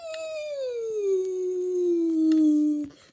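A dog in the Minecraft video game lets out a single drawn-out whine-howl that slides slowly downward in pitch, clear and alone for about three seconds, then cuts off.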